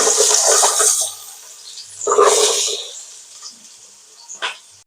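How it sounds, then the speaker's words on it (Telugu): Onions dropped into hot oil in a pan for a Telugu-style lentil kichidi, giving a loud sudden sizzle that fades, then a second sizzling burst and a few small crackles, close. "ఇప్పుడు ఆనియన్స్ వేస్తున్నాను"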